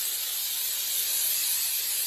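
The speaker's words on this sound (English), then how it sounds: "I'm just using some vegetable-based cooking spray." A continuous, bright hiss of vegetable-based cooking spray from an aerosol can, steady and close for about two seconds.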